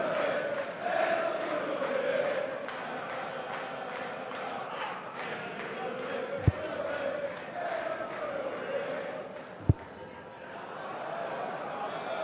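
A large darts crowd at a European Darts Open quarter-final roars and cheers steadily throughout, a dense sustained wash of voices with a couple of sharp knocks, while a commentator talks over it.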